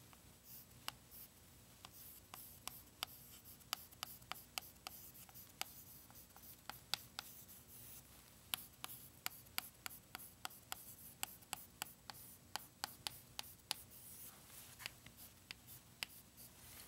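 A pen or marker writing out a math result on a board or paper during a modular arithmetic congruence lesson, a steady run of small taps and scratchy strokes, close and fairly quiet, with no talking.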